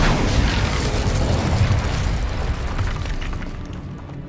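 An Incendio fire spell cast in the video game Hogwarts Legacy bursts out as a loud, dense roaring whoosh that stays steady for several seconds before easing off slightly at the end.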